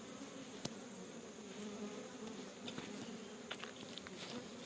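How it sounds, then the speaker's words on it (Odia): Honeybees flying around a hive while doing their waggle dance, a faint, continuous, steady buzzing hum with a few soft ticks and no voices. "ପ୍ରକୃତିରେ ମହୁ ଆସିଛି ବୋଲି ମହୁମାଛି ଡ୍ୟାନ୍ସ କରୁଛି"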